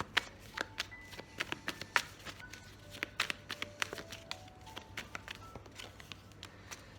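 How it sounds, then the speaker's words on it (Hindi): Tarot deck being shuffled by hand, a steady run of crisp riffling card slaps and soft flicks, close and fairly quiet, with no talk over them. "Okay, I shuffle and ask again."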